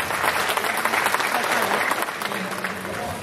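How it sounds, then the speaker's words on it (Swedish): Audience applause fills a charity auction hall after a lot sells, a steady dense clapping from a nearby crowd lasting several seconds, with some voices mixed in. "Det får vi en applåd för."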